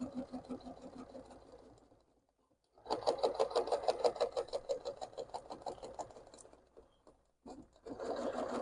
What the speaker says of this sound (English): So then we're gonna go ahead here and hit the stitch.